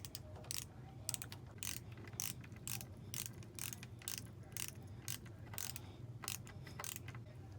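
Short screws being driven to fix a banister piece to a banister: a faint run of quick, ratchet-like clicks repeating in uneven bursts over a low room hum, with no voices.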